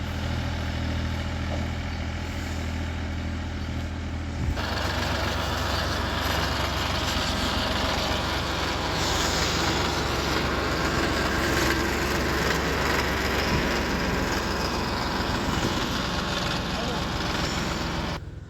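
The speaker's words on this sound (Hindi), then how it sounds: "खेत से ट्रॉली बाहर जाते हुए" A tractor hauling a trolley drives out of a farm field, its loud, steady engine rumble and rattling running continuously, with a shift in tone a few seconds in.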